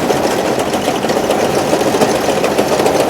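Hay mower PTO drive running, a big V-belt and gears churning in a dense, steady mechanical whir with a fast rattling texture, close and continuous with no talk.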